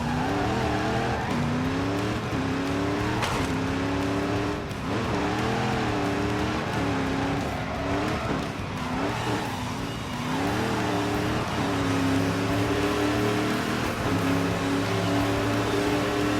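A racing car in The Grand Tour video game laps a track, its engine revving continuously and loud throughout, with rising and falling pitch as it accelerates and shifts, joined by occasional tire squeal.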